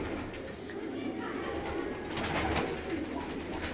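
Breeder pigeons coo softly and steadily in a loft, a low continuous murmur of many birds close by with no talk over it.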